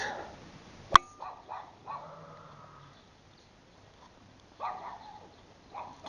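Dogs bark and whimper outdoors, a few short separated yelps and whines scattered across the moment with a sharp click near the start and quiet gaps between.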